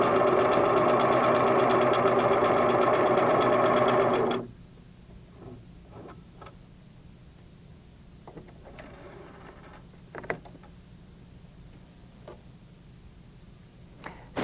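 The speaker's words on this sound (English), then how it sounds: "You can see I'm gently moving the fabric and pivoting it as I'm sewing." A Singer sewing machine stitches quilting fabric in one loud, continuous run of fast needle chatter for about four seconds, then stops, leaving quiet handling clicks and faint taps alone.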